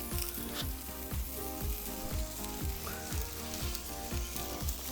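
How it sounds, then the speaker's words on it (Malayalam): Cherry tomatoes sizzling on a grill, a steady close frying hiss with rhythmic crackles and pops throughout, no voices. "ചെറി ടൊമാറ്റോടെ നമുക്കൊന്ന് ഗ്രില്ല് ചെയ്തെടുക്കാം."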